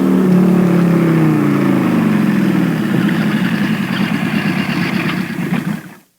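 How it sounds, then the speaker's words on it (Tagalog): A motorcycle pulls up beside a fence: its engine runs loud and close with a steady rumbling idle, then cuts off abruptly to silence near the end. "May mihulong nga motor sa tungod sa among koral."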